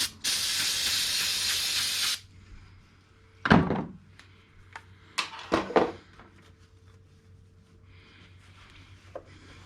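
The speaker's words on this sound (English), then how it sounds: "we're gonna use carb cleaner, choking carb" A aerosol can of carb cleaner sprays into a choked carburetor on an X485, giving one loud, steady hiss of about two seconds, followed by a few close clunks and handling knocks.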